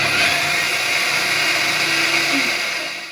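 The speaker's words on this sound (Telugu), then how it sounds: "ఇప్పుడు ఇది రాగులు కూడా మిక్సీ పట్టేసి గట్టిగా అందులో కలిపేస్తానండి." Mixer grinder blending finger millet (ragi), a loud continuous high-pitched whirring motor run close by, steady for a few seconds and then tapering slightly at the end.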